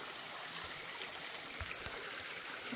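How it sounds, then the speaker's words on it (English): Small creek flowing at a trail crossing in the Appalachian woods, a steady close babble of running water with soft trickles, continuous and alone with no voices. "Got a little creek crossing here."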